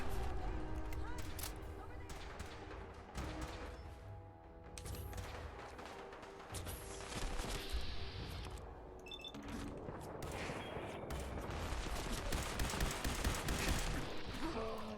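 Gunners open fire in Fallout, rattling volleys and bursts of gunshots over a busy game mix, with a voice talking throughout.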